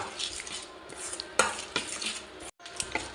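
A spoon scrapes and clinks steadily around a bowl of coconut chutney being mixed, close and fairly loud, with one brief pause.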